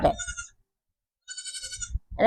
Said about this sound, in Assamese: ছাগলীয়ে কেনেকে মাতে বাৰু শুনিছানে